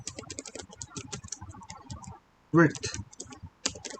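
Rapid clicking keystrokes on a computer keyboard while code is typed for a Flask web form, with a person talking over the taps and a brief pause before a louder burst of keys.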